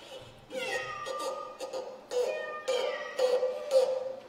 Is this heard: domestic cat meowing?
yes